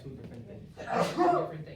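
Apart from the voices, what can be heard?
sneeze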